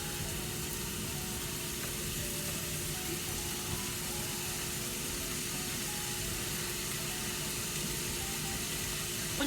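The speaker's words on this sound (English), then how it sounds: "But this is when I add my bacon." Bacon sizzles in a pan with browning ground beef for a discada, a constant dense frying hiss that holds level throughout, with no talking.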